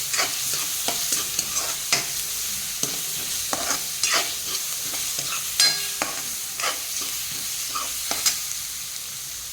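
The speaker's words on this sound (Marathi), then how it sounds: "असे तेल सुटेपर्यंत असं फ्राय करून घ्यायचं आहे आपल्याला।" Garlic paste fries in oil in a pan, giving a steady bright sizzle punctuated by repeated scraping taps of a spoon stirring it, close and moderately loud with no talking.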